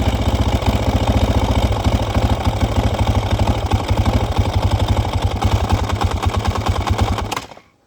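Engine idling up close at a steady, fast, lumpy clatter, holding an even rhythm for several seconds before cutting off and fading to quiet at the end.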